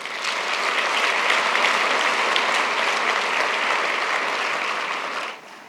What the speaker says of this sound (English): Please, a round of applause for Tariq Al-Gurg.